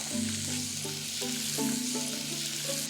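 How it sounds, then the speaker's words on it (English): Boned lamb neck fillet sizzles in a hot pan, a steady close frying hiss with small crackles and spits, no voices. "Now it should sizzle"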